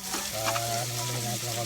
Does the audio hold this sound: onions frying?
yes